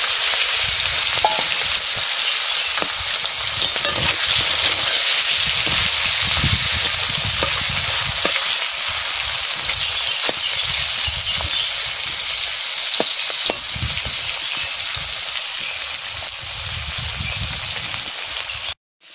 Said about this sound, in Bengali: মাছ ভাজা আমি বসাই দিচ্ছি।